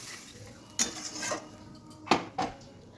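Spice paste for katla kalia fish curry is stirred in a pan over low heat, with a few sharp scrapes and clinks of the spoon against the metal over a faint sizzle, heard close and alone.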